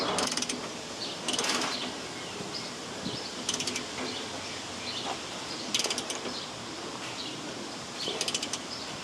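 A socket wrench ratchets on the rear shock nut of a 1989 Chevy K5 Blazer, giving close, quick bursts of clicking that repeat about every two seconds over a quiet background.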